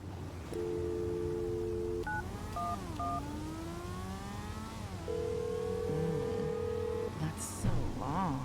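Telephone keypad tones sound as a payphone is dialed in a roleplay video game: a series of steady beeps at varying pitches over a continuous background engine hum, with voices faintly present.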